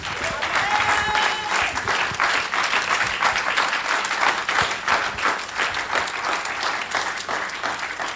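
A church congregation applauds with dense, sustained clapping that holds at an even loudness throughout, with voices faintly mixed into the crowd.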